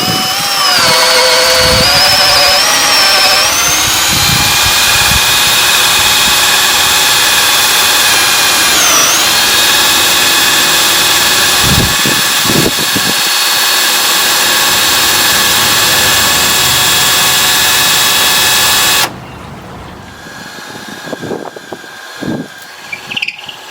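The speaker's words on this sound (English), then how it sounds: "We've drilled it all the way through." A power drill whines steadily and loudly for a long stretch while drilling through wood, its pitch dipping under load, with knocks and thumps, then cuts off abruptly.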